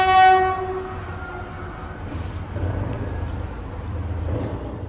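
An old passenger train with open-windowed carriages pulls into a station platform on Thailand's Death Railway, opening with a loud, steady horn blast, then a continuous rumble of rolling cars nearby.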